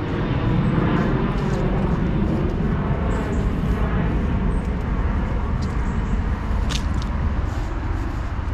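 A low-flying airplane passes overhead in Lisbon, its loud continuous engine roar dominating throughout, with a few faint street sounds and brief clicks mixed in and no speech.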